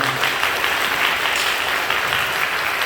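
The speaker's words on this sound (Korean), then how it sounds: "하나님 앞에 영광의 박수를 드리겠습니다" A church congregation applauds together after a mission report, a thick, steady wash of clapping that continues without a break across the whole stretch.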